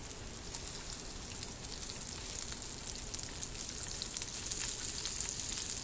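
Asparagus frying in butter in a pan, giving a steady, close sizzle with faint crackles throughout and no talking.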